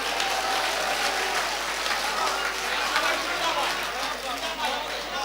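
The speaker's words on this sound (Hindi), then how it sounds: "एक बार जोरदार तालियां बजाकर मेरी तायीद करें" A mushaira poetry gathering audience claps steadily and loudly throughout, a dense continuous wash of applause with some crowd murmur, heard fairly close.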